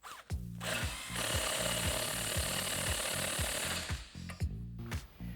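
A power tool tightens a 21mm steering linkage nut on a 2019-2022 Silverado 1500 during leveling kit fitting, giving a loud, steady rattling whir with short bursts before and after the main run.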